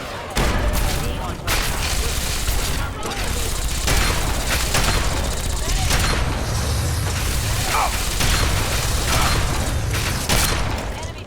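Dense, continuous gunfire and mechanical weapon clatter from the video game Fallout 3 fill the whole stretch, loud and rapid with bursts and booms, while a voice talks over it.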